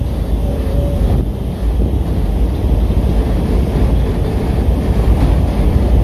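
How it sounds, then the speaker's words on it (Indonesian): A work locomotive rumbles inside a rail tunnel on the Jakarta high-speed rail construction line, a continuous deep roar heavy with wind buffeting, loud and steady throughout. "semakin kencang gemuruh lokomotif dari dalam terowongan"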